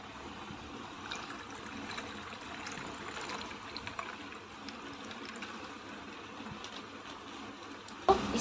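Soda poured into a Jodhpuri cumin drink in a glass, a soft continuous fizzing trickle at low level, ending with a brief louder clink.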